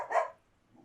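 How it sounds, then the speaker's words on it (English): A single sharp bark from a pet dog in a home recording room, close and loud, then quiet. "my dog is barking at nothingness again"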